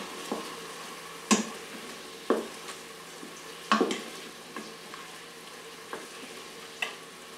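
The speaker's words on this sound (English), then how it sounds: "And to deglaze, I need to really rub at those bits, make sure there's nothing stuck to the bottom of the pan." Beef bourguignon pan being deglazed, with a utensil scraping stuck bits off the bottom while liquid sizzles steadily, sharp scrapes standing out at irregular intervals above the hiss.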